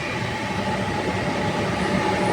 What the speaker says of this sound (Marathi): समोर कुठली तरी ट्रेन येत आहे.